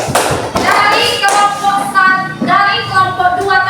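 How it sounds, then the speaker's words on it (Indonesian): A classroom of students clapping for a group that has just presented, a dense, close burst of hand claps with a few thumps, loud and lasting throughout. "Ya, tepuk tangan untuk kelompok 3."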